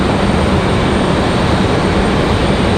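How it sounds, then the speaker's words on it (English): An MD-11 jet taxis for departure at Raleigh-Durham International Airport, giving off a loud, steady, broadband engine roar that holds unbroken throughout. "There she is. The MD-11 headed up the hill."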